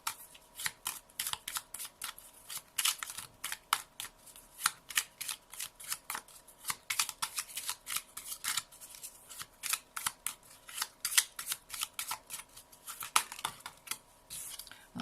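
Tarot cards are shuffled continuously by hand, a quiet, rapid run of crisp slapping and sliding card sounds with one card dropping out.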